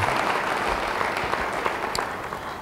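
A church congregation claps during a sermon in a steady wash of dense applause. A few sharper claps stand out near the end, and no voices are heard over it.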